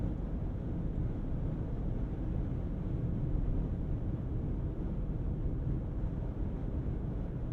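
Steady, low rumbling road and wind noise fills the cabin of a 2023 Audi RSQ8 on the move, a smooth, even hush with no sharp sounds, continuous throughout.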